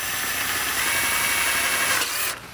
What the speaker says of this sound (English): That hole that I made right there is hopefully where we're gonna drill to.